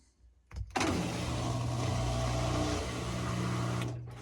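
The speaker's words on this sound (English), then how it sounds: "just to make sure I have no leaks and the pump works" LG Tromm washing machine drain pump, a DB-02 replacement, running on test, starting with a click and then a steady, loud, close electric hum and whir that holds for about three seconds before cutting off.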